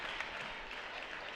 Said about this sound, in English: nice to see Devin Hill go out to a round of applause